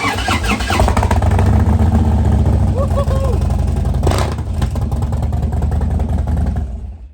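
A 2014 Harley-Davidson Street Glide with new lifters, adjusted pushrods, a Kirker Performance 2-into-1 exhaust and big breather intake idles loudly up close, its deep uneven V-twin rumble steady throughout with a brief blip, while someone talks over it.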